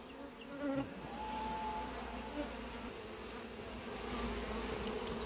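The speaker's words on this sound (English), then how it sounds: "Lots of bees." A swarm of honeybees packed inside an electrical meter box gives off a continuous, fairly quiet buzzing drone that stays steady, with brief louder bursts and no talking.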